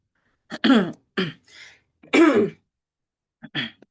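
A person clears their throat and coughs several times in short, raspy bursts separated by brief pauses, close and loud.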